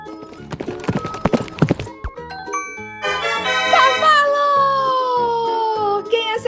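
A horse's rhythmic clip-clop of hooves comes first, followed by a long, loud neigh that rises and then tapers off. A bright ding appears in between, and the sounds are presented as an animal-sound guessing game for children.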